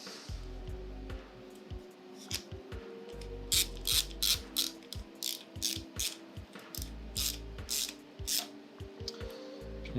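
A hand ratchet tightens the fuel rail bolts on a Nissan 350Z, giving repeated bursts of quick, close metallic clicking strokes separated by short pauses, with no talking.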